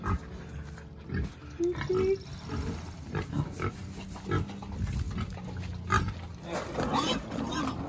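A pig on a winery farm grunts and oinks repeatedly in low, rough bursts close by, mixed with outdoor rustling and a person speaking at times.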